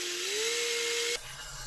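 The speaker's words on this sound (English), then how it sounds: "Next, drill a small hole from the top." A small electric drill bores a hole into a piece of wood with a steady, close whine that rises slightly in pitch, then cuts off abruptly, leaving a faint low hum.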